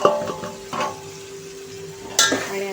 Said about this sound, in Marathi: आणि आता तेलावरती हे मसाले छान असे परतून घ्यायचे।